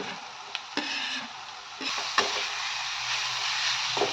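Chopped onions and grated Magadi root fry in a pan, giving a steady close sizzle broken by a few sharp scrapes and clicks of a spoon stirring.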